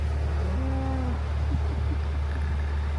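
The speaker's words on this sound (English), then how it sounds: "Cow on the towpath." A single cow moos once along a canal towpath, a short low call standing out over a steady background hum, with quieter rustling afterward.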